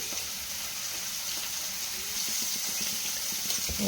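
Sardine curry with ground coconut sizzles steadily in a pan, a continuous close frying hiss with faint scraping and knocking as it is stirred, no talk.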